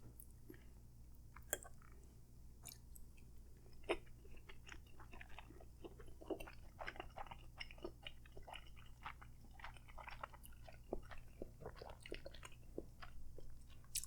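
Close, soft chewing of mango sticky rice at a Thai meal with pad Thai and Thai tea, with steady moist mouth clicks and squishy bites repeating throughout, no talking.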